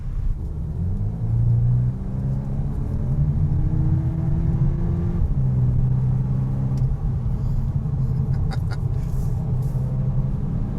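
A 2024 Volkswagen T-Roc R launches hard in sport mode with stability control off, its engine droning and rising through the gears with short shift breaks, heard as a loud steady rumble from inside the cabin with no talk.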